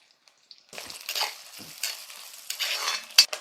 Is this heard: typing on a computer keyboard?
no